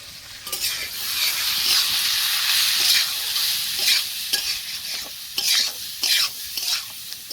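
Paneer with salt and turmeric is stirred in a hot pan in a village kitchen, a bright, hissing sizzle with repeated scraping strokes of a spatula, close and moderately loud, no speech.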